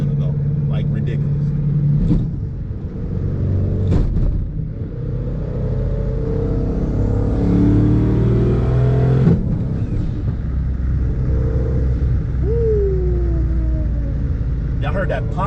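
Twin-turbo Hellcat with a dog box transmission rumbles and revs hard under acceleration, the engine note rising through no-lift shifts with a sharp exhaust pop, while someone talks over the loud, close drivetrain roar.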